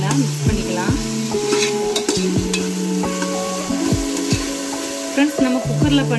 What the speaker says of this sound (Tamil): இது எல்லாத்தையும் ஒரு வாட்டி நல்லா மிக்ஸ் பண்ணிக்கலாம்.